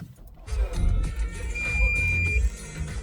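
Car radio music plays inside a car right after the start button is pressed, a steady mid-loud stream with a sustained tone running through it, alone with no talk.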